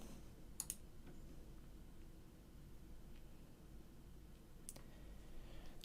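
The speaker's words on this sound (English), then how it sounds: "We're going to click Next." Soft mouse clicks on a computer in a quiet room: a quick double click near the start and another pair a few seconds later, faint against a low background hiss.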